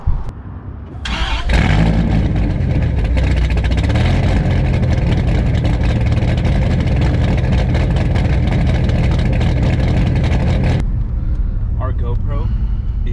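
A 1999 Hennessey Viper ACR engine catches and roars loudly after a brief quiet start, then holds a strong, steady rumble close by before cutting off, with people talking near the end.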